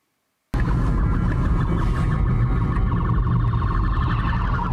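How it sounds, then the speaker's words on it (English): A police car siren blares suddenly and loudly out of silence and holds a steady, continuous wail as the car races past at high speed. "because a police car is coming at a high rate of speed."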